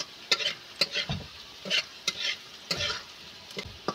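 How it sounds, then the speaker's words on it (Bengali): Garlic frying until reddish in oil for a lata fish curry with okra, a low sizzle broken by irregular scraping stirs of a spatula against the pan. "রসুনটা এইভাবে আমি লাল লাল করে ভেজে নেব"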